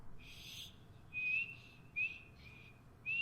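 Someone whistles in the video game Skyrim, a few short clear whistle notes repeated at intervals over quiet background ambience, faint and thin.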